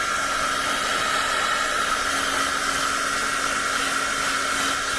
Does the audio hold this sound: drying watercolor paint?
yes